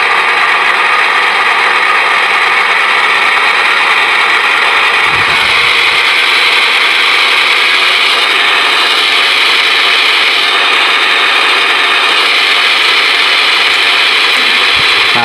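Roco Z21 model locomotive sound module simulating a diesel engine under load test, a loud, steady mechanical drone with a buzzy, ratcheting texture that holds for several seconds, with no talking.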